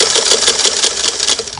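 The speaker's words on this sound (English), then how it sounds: "I'm going to throw my reverse lever and sew backwards a little bit" A Singer Model 99K sewing machine runs steadily through a seam, its rapid mechanical stitching a continuous, loud, close-up whir and clatter with no pauses or voices.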